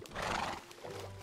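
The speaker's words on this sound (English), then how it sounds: "do you guys want this white horse?" A horse in Minecraft gives a single loud, close whinny that rises and falls over about a second, with no talk over it.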